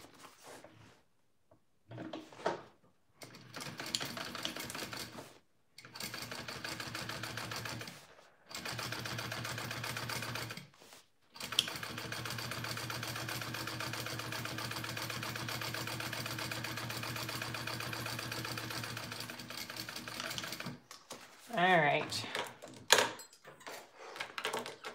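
A sewing machine top stitches a Camille bag in several long runs of rapid, even mechanical whirring, broken by short silent pauses and ending with a few clicks and handling sounds, close and moderately quiet.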